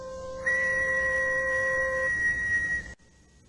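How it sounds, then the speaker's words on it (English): A whistle is blown in one long, steady, piercing blast that starts abruptly, holds at an even pitch for about two and a half seconds, then cuts off sharply, leaving faint room noise. "first I have to find my whistle"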